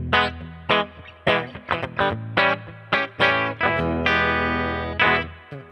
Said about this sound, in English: Amp spring reverb.